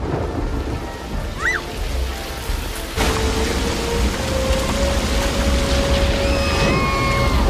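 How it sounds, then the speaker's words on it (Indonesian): Heavy rain summoned by the board game in the 1995 film Jumanji pours down steadily with thunder rumbling, growing denser and louder partway through, a continuous wet roar with no voices. "kemudian memunculkan hujan lebat yang berasal dari permainan itu"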